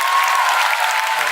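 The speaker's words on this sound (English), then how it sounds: "Huge round of applause for Karan Johar." Audience applause for Karan Johar: a short, dense, even burst of many hands clapping at once, steady and loud throughout with no voices rising above it.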